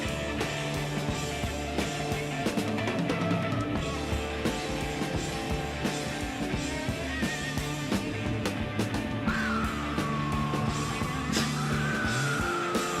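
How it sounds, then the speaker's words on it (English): Roger Waters screams on Pink Floyd's Ummagumma, a rough yelling voice buried inside dense, busy rock instrumentation, fairly quiet overall with a rising wail near the end. "That is Roger Waters screaming."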